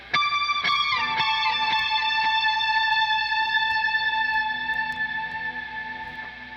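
Noisy, effects-laden synthwave lead guitar in a Logic Pro mix, sounding a few sharp bright notes that then ring out and slowly decay with reverb and echo, moderately loud and alone.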